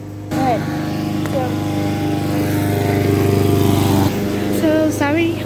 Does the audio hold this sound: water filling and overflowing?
no